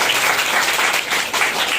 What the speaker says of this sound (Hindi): जोरदार उनके लिए ताली बजाइए।